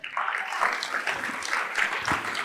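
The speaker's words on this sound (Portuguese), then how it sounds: "Jesus merece um aplauso por isso." A church congregation breaks into sustained applause, a dense wash of many hands clapping at steady volume throughout.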